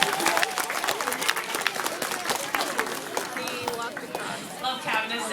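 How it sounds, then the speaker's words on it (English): An aquarium audience claps in a dense, continuous round of applause, with crowd voices mixed in and the clapping staying fairly loud and close throughout. "Let's give our whales a round of applause."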